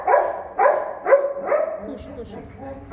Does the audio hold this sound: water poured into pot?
no